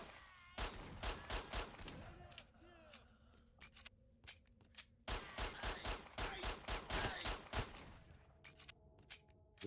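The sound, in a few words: gunfire in the video game S.T.A.L.K.E.R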